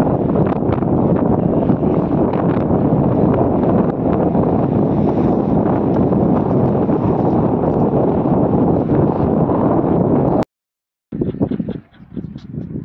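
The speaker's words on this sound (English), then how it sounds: "And of course, as always, a lot of wind from the side." Strong, steady wind buffets the microphone aboard a sailboat, a loud, close, roaring rumble that holds for about ten seconds, cuts out abruptly, then returns in gusty bursts.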